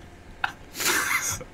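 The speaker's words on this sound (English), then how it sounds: "someone opened the door while he was sneezing" A single person sneezes loudly and close, a sharp intake breath followed by a burst that holds for about half a second before cutting off, with no talk over it.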